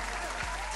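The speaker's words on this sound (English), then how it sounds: "I just got to give you the claps for that one, bro." A brief, crisp burst of applause plays as a sound effect, loud and close, lasting under a second.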